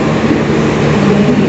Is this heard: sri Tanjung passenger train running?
yes